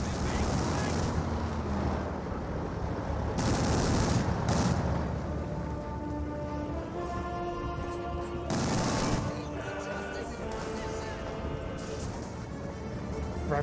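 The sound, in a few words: quad half-track machine gun fire in a video game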